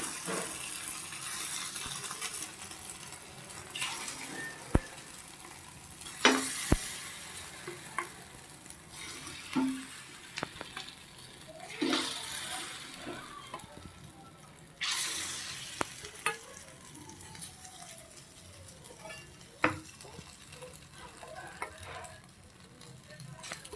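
Egg and beetroot ponganalu fry in a hot pan, giving a steady close sizzle broken by occasional clinks and scrapes as the batter is stirred and turned, with no talking.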